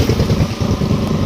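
A motorcycle engine running close by, a loud, low, steady throbbing putter with an even pulsing rhythm, no voices.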